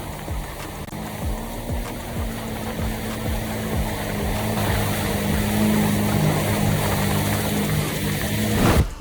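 Jet ski engine running out on the water, a steady low motor drone with rhythmic pulses that gradually grows louder, heard alone without any talking.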